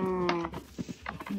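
Cows in a video game give a short, low moo at the start, followed by a few soft knocks and game noises.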